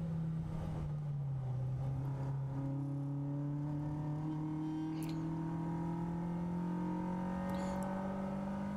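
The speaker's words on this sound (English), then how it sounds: "You can hear the purpose of the downshift, of the heel toe downshift, is to bring the engine revs in line with what the transmission is doing" A race car engine rises and falls in pitch through blipped heel-toe downshifts while braking into a hairpin, a steady droning tone with layered harmonics, sweeping up and down, close and continuous without talk.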